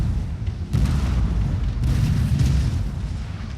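Artillery booms rumble through a Napoleonic-era video game battle between French and British forces, a dense, continuous low roar of overlapping blasts with a couple of sharper onsets.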